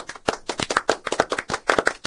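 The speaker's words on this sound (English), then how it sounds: "I wish we had a sound effect for applause like we used to have in our old show" A short burst of applause plays as a sound effect, with irregular, closely spaced claps of uneven loudness lasting about two seconds.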